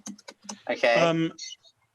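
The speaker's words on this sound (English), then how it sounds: "are you typing these answers?" A few quick, close keystrokes tap on a computer keyboard before a voice speaks over and after them.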